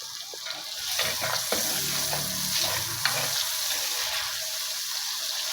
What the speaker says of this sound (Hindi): अब अच्छी तरह मसाले की भुनाई करते हैं, मसाला भूनते हैं।